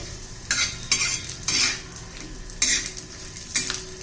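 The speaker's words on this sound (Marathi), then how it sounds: "खोबराचं एक चमचा भर जिरं घालायचंय ते पण चांगलं परतून घ्यायचंय" Cumin seeds and grated coconut roasting in a pan, stirred in brisk repeated scrapes of a spoon over a soft sizzle, about six strokes in quick succession.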